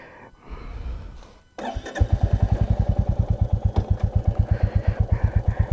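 A motorcycle engine starts after a short rumble and settles into a steady, loud, rhythmic idle chug close by, thumping evenly to the end.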